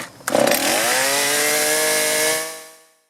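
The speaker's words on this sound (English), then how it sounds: "Now let's warm up the saw and adjust the carburetor." A chainsaw engine with bogging and hard-starting carburetor trouble sputters to life, then holds a loud steady buzzing idle before winding down and cutting off.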